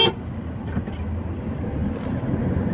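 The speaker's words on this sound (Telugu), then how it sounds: "నేను హెవీ ట్రాఫిక్లో డ్రైవింగ్ అయితే చేస్తున్నాను ప్రస్తుతానికి" Car driving through heavy city traffic, a low steady interior road rumble and engine drone with faint surrounding traffic, continuous and moderate in level, no talking.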